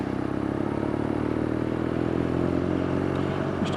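BMW R nineT Scrambler motorcycle riding on a rainy road, a steady close engine drone with wind and road noise and a slight rise in pitch toward the end.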